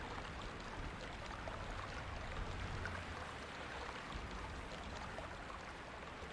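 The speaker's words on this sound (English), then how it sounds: "This babbling brook." A babbling brook in the Myst game flows in a soft, continuous rush and trickle, steady and fairly quiet throughout.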